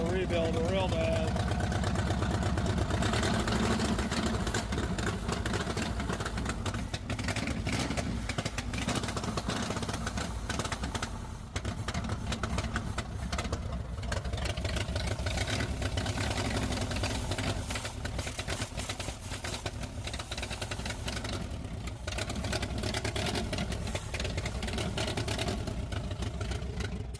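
A 1958 Goliath 1100 engine with a badly worn carburetor runs steadily and loudly throughout, a continuous mid-pitched idle with slight fluctuations and no clear pauses.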